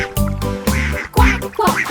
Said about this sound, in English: 2 happy ducks